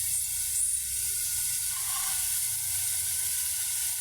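Koi fish frying in a pan of spiced masala, giving a steady, loud broadband sizzle with no pauses throughout.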